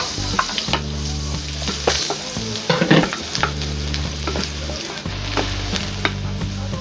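Garlic goes into a loud, close frying pan already holding bok choy for Visayan chicken adobo, with a vigorous sizzle, clattering stirring and a droning hum underneath.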